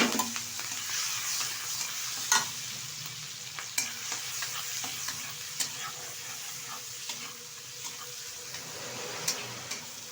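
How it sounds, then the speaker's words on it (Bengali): Shrimp, rinsed and dusted with turmeric, fry lightly in hot oil in a wok, giving a steady close sizzle broken by occasional stirring scrapes and crackles, with no talking. "ধুয়ে রাখা চিংড়ি মাছ হালকা করে ভেজে নেব"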